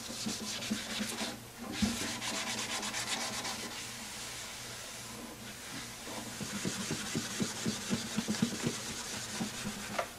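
Shellac finish on a guitar neck is sanded with the grain in rhythmic back-and-forth rubbing strokes, close and steady, with a brief pause near the start.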